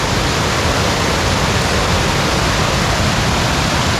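Small waterfall cascades tumble one after another at Savage Falls in Tennessee, making a dense, steady rushing hiss that stays loud and unbroken throughout.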